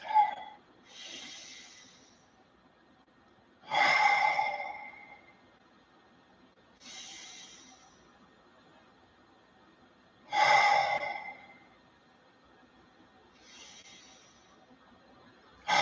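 Slow, deep breaths during a guided meditation, each long inhale and exhale audible and close, recurring at relaxed intervals of several seconds in an otherwise quiet room.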